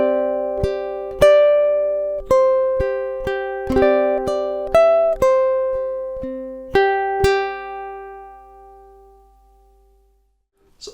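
Bright, close ukulele notes and chords pick out two measures of a song at a moderate pace, the final chord ringing out and fading into near silence.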